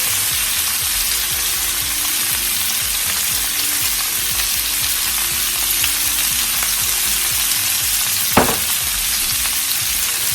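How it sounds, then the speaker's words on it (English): Vegetables simmering with curry masala seasoning in a pan give a steady, even sizzle and bubble throughout, with a single short clank near the end. "This is the curry seasoning. I'll simmer it."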